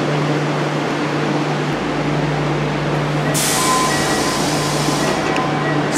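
A Nagoya Meijo Line subway train pulls into an underground station, a steady mechanical rumble and hum swelling as it arrives, with a bright hiss rising partway through; no voices are heard.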